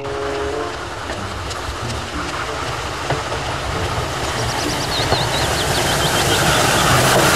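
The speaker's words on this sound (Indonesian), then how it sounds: "Kereta Thomas." A Thomas toy train rattles along with a steady clickety-clack, and a high whistle toots near the end. The sound is continuous and fairly loud.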